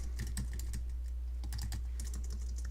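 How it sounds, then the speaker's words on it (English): Keystrokes on a computer keyboard while entering a title in a WordPress page editor, a quick irregular patter of clicks in short bursts with brief pauses, close and steady over a low constant hum. "you'll want to type Leader's Guide right here"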